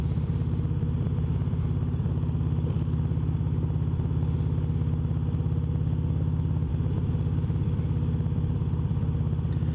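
A deep, loud Harley-Davidson Twin Cam touring motorcycle engine with a stage 1 exhaust and breather kit idles steadily nearby, its rumble loping in an even, throbbing rhythm with no other sounds.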